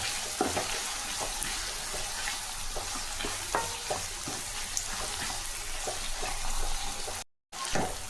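Onions and grated ginger sauté in a pan with a continuous moderate sizzle and scattered small pops, heard close with no talk, briefly cutting out near the end.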